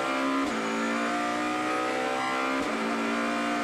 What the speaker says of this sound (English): it's just great to hear that sound as they run down towards